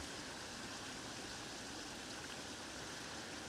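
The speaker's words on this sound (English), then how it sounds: "you can see where the water's actually running down there and going into the spillway tunnels off the lake" Rainwater rushes steadily down a lake spillway toward its tunnels on a very wet day at Bathpool, Kidsgrove, giving a constant broadband roar, soft and somewhat distant, with no pauses or voices.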